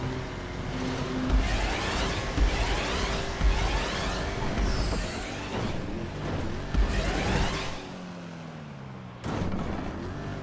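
Car engine in the video game GTA 5 during a parkour skill test, a continuous revving drone with repeated thuds and bumps, fairly loud and alone without talk.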